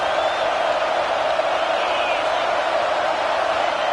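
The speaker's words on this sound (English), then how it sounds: "how nice is it to have the home crowd going absolutely bananas?" A home crowd at a football game roars loudly and continuously, forming a dense wash of cheering voices with no breaks.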